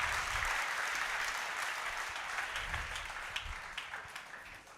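A church congregation applauding the Lord during a service, with sustained loud clapping from a crowd that gradually tapers off, a few voices mixed in.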